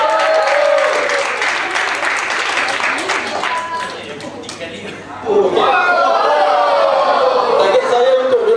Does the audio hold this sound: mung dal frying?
no